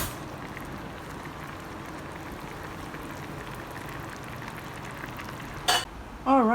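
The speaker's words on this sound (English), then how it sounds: "I'm boiling here some cashews, some carrot, and some bell peppers" Continuous low bubbling and hiss of a pot of cashews, carrot and bell peppers boiling on the stove, even and steady throughout, with a brief clatter near the end.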